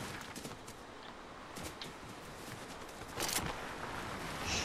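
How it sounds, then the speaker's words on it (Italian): Bursts of Fortnite gunfire crackle in quick volleys, some sharp and some distant, over a constant background rumble. "Spari."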